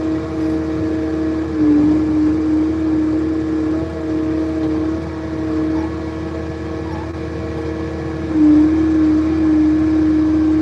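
A tractor runs steadily during cattle feeding, its engine a constant droning hum with a rising, louder surge near the start and again toward the end, close and continuous throughout.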